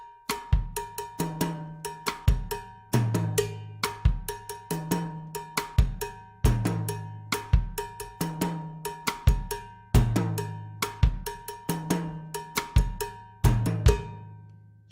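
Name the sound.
mambo bell pattern with bass drum, snare and hi-hat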